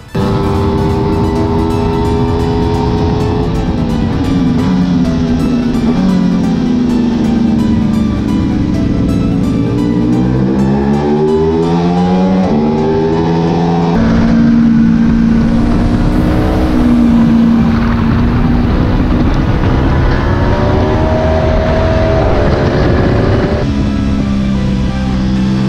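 An Aprilia RS660 motorcycle on Pirelli Supercorsa SC3 tyres laps the Misano track, its loud, close engine rising and falling in pitch through gear changes and throttle sweeps for the whole stretch.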